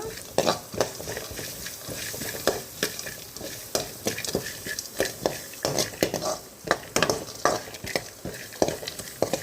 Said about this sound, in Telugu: ఈ కారం కొంచెం నూనెలో కొంచెం వేగితే ఏంటంటే ఆ పచ్చి వాసన పోతే ఆ ఫ్లేవర్ బాగుంటుంది